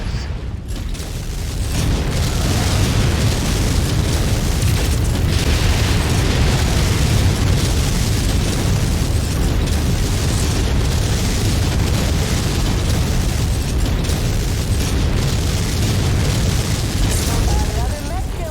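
Relentless enemy artillery in MechWarrior 5: Mercenaries, a continuous barrage of loud, close booming blasts and heavy rumble building after a brief quiet start, with voices faintly beneath.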